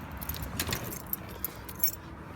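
Keys to a 1972 Lincoln Mark IV, including the trunk and glove box key, jangle close by in a few bright, scattered metallic rattles with no voices.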